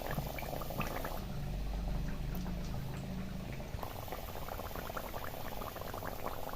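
Potato bhaji frying in hot oil, close and steady: a continuous bubbling sizzle with crackling pops throughout, with no talk.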